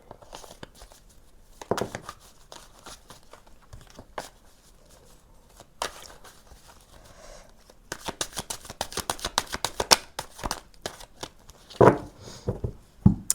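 Tarot cards are shuffled by hand in sparse bursts of papery riffling and slapping, sounding close in a quiet room, growing busier and more rapid toward the end.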